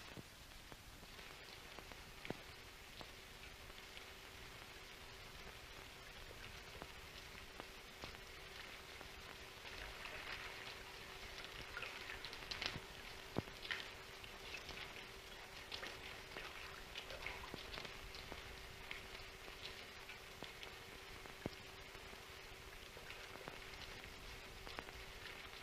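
Steady rain falls in a 1939 Japanese film, a soft, even hiss scattered with faint drips and crackles. It continues alone without a break under a low constant hum from the old soundtrack.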